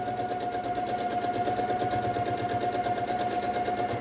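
A steady, close mechanical hum with a constant tone runs without a break as a sewing machine stitches a 1/4 inch seam through layered quilt pieces.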